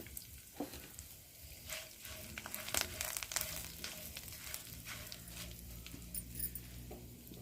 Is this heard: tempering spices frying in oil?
yes